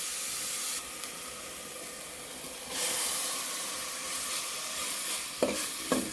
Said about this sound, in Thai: ผัดหมูให้สุกค่ะ